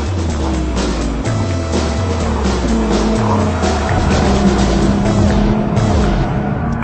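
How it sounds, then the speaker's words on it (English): A turbocharged all-wheel-drive Nissan GT-R in race mode accelerates hard out of a corner on a test track, its engine note rising loudly through repeated gear changes, with tires squealing and no one talking. "Car charges very hard out of the turn."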